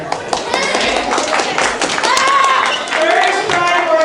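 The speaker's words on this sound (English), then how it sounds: "your clapping has been pathetic" Middle school students clapping at a seventh-grade quarterly assembly in a large room, scattered claps mixed with overlapping voices.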